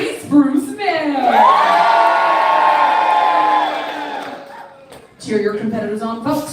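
Crowd at a lumberjack show cheering and whooping loudly for several seconds, with children's shouts in the mix, tapering off before an announcer's voice returns.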